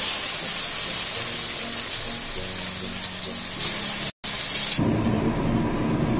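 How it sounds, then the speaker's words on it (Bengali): Pumpkin kofta balls frying in mustard oil give a steady, dense sizzle across the whole stretch, broken by a brief dropout near the end, after which the frying turns fuller and bassier. "সর্ষের তেলে আমি বড়াগুলো ভাজতে শুরু করেছি।"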